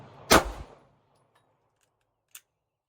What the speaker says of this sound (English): I did my first shot and the gun was empty